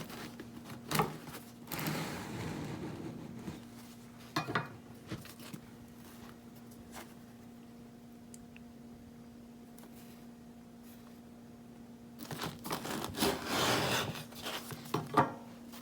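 A knife sawing through a baked sourdough Ramadan pide, giving rough, crusty rasping in a short burst near the start and a longer one near the end, separated by a quiet stretch with a faint hum and a few small knocks.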